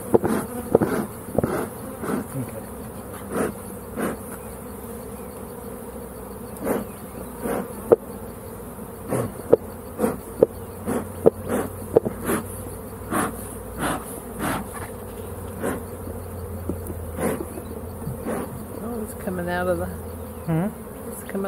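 Honeybees buzz steadily around open hive brood frames during an inspection, a close, continuous insect drone broken by scattered clicks and knocks of handled frames and equipment.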